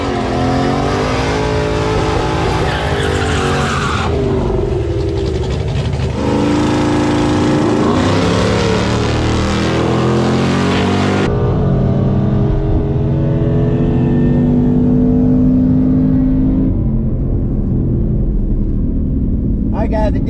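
A Ford Shelby GT500 launches hard down a dragstrip, its engine revving and roaring through rising gear pulls before fading away into the distance, loud and close at first, with voices talking over it.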